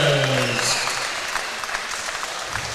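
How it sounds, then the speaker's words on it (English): Applause for both boxers at a live boxing event, a dense, sustained burst of clapping from a large crowd that swells at the start and carries on steadily, with some voices and tonal sounds mixed in underneath. "can we please have a big round of applause for both of our"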